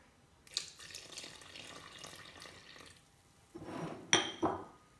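Water is poured from a tap for Turkish pide dough, with clinks of dishes and cutlery, a soft running stream in the middle followed by a louder splash and a few sharp knocks near the end, with no talking.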